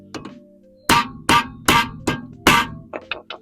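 Five sharp, loud hammer blows land on an impact screwdriver against an Audi Q5 wheel in a parking spot, evenly spaced metallic whacks, with lighter taps before and after.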